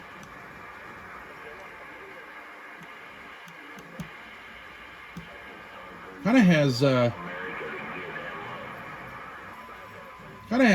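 Steady hiss of high noise-floor static from an SBE Sidebander V CB radio tuned to AM, running continuously at moderate level with a few faint ticks, briefly interrupted by a short burst of voice partway through.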